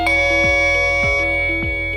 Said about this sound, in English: A ding-dong tone indicates that the chime has entered into the pair mode